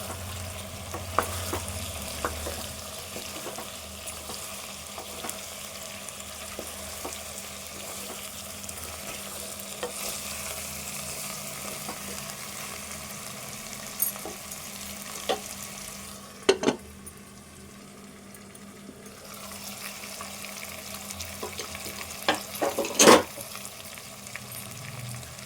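Goat leg curry with chopped green chillies fries in a pan under steady stirring, a quiet continuous sizzle with occasional scrapes and clinks, and no talking.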